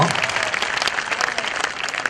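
An audience clapping at a Gujarati talk, dense, loud applause from many hands filling the whole stretch, steady with brief peaks, no talk over it.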